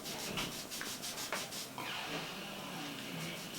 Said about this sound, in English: I'm really having to scrub and I'm having trouble getting that liquid lipstick off of my arm.